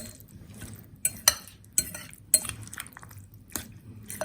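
Guacamole being stirred in a bowl, with a spoon knocking and scraping the sides in a few sharp, uneven clicks over soft wet mixing, close and fairly quiet.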